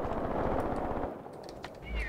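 Rapid machine-gun bursts fired at an enemy gun in the tactical war game Graviteam Tactics Mius Front, a quick string of close, sharp reports that fades into quieter background battle noise.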